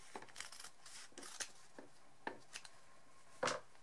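Quiet, close snips of scissors cutting through fabric scraps, several short irregular cuts with small rustles between them.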